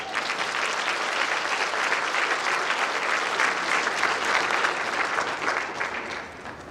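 An audience at a fraternity chapter's annual MLK Jr. unity breakfast gives a steady round of applause, a dense wash of many hands clapping that holds evenly for several seconds and tapers off slightly at the end.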